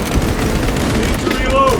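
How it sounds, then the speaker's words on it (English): A krak grenade detonates in Warhammer 40K Space Marine 2, a loud, dense boom layered over continuous battle noise and combat chatter throughout. "Using crack grenade!"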